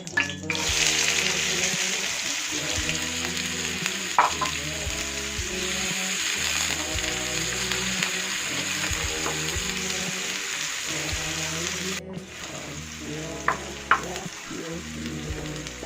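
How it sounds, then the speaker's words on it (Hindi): Onions frying in a pan for gawar phali (cluster bean) sabzi, a steady close sizzle with stirring scrapes and clinks of a utensil running throughout, no talk. "मैं प्याज डाल"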